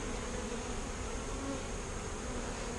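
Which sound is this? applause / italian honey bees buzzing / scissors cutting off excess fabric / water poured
italian honey bees buzzing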